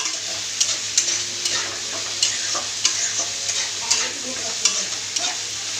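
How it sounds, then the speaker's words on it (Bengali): A spatula stirs greens with lentil dumplings, potato and eggplant in a sizzling pan: regular scraping strokes about twice a second over a constant frying hiss, close and clear. "বড়ি দিয়ে ডিমের শাক আলু বেগুন দিয়ে নাড়ছি"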